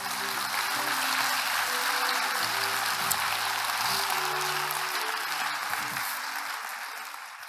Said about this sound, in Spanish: Eso merece un aplauso para papá.